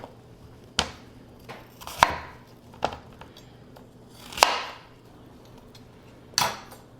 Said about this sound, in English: you'll want to remove the cores